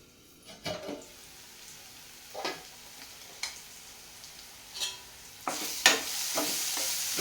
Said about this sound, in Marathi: चला तर आता डाळीला फोडणी देऊया